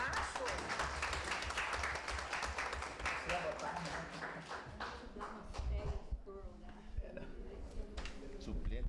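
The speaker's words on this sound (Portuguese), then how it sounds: "Vamos aplaudir." Scattered clapping from a small group at a state meeting, uneven and fairly quiet, with voices talking over and around the applause.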